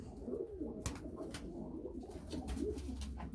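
Breeding pigeons in a home coop give off soft, low, continuous cooing, a steady murmur of several birds close by with no voices over it.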